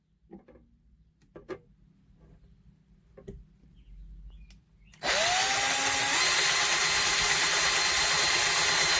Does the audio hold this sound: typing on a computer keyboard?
no